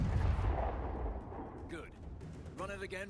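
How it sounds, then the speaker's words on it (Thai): A smart grenade blows up in Call of Duty: Advanced Warfare, a loud rumbling blast that fades out before a voice starts talking. "ระเบิดเข้าใส่ศัตรูนะ"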